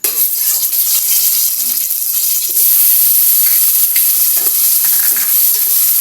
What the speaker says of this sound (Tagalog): gisa natin yung sibuyas, kamatis, at yung luya